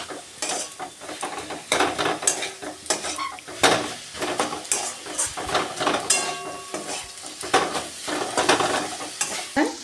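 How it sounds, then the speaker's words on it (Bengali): Spiced jackfruit and potato curry stirred in a pan with a spoon, the sizzle of frying under repeated scraping and clinks of utensil against metal, close and fairly loud throughout. "দিয়ে এবার ভালো করে একটু নাড়তে থাকবো।"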